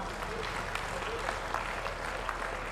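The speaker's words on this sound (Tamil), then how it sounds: "நல்ல கைத்தட்டல்களை கொடுக்கலாம்." Audience clapping at a building inauguration ceremony runs as a continuous even patter of many hands, moderately loud and steady throughout.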